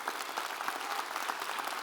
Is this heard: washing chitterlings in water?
no